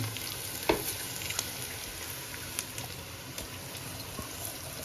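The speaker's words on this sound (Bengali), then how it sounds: "ভাজার পরে এখন আমি ধুয়ে রাখা যে চাল ডাল ছিল সেইগুলোকে ওর মধ্যে দিয়ে দিচ্ছি।" Washed rice and lentils go into onions frying in a pan for Bengali-style khichuri, giving a steady close sizzle with scraping stirs and a few sharp clinks. No one speaks.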